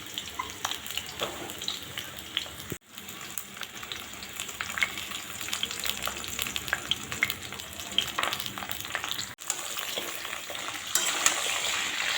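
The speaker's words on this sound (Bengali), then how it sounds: "আর এখন এই যে সর্ষের তেলে পটলগুলো সমস্ত ভেজে নেব" Pointed gourd pieces fry in mustard oil in a home kitchen, giving a steady, close sizzle and crackle with occasional stirring clatter that runs almost unbroken for twelve seconds, with two brief drops.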